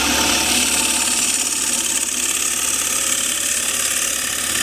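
A wood lathe scraper, tilted down on the flat face, cuts a square wooden plate, producing a steady, loud, hissing rasp that continues without pause.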